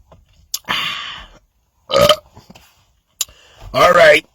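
After a drink of peach and vanilla Pepsi, loud close burps erupt, with a short one near the start and two longer ones later, separated by silence.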